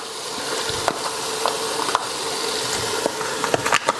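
Tofu cubes fry in a pan for a vegetarian red curry, giving a continuous close sizzle broken by scraping stirs and small crackles.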